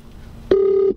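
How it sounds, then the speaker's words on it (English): A phone call rings through a Mercedes-Benz car's hands-free system: a single short electronic tone starts abruptly and holds steady for about half a second, loud and close. "Yes, it's ringing."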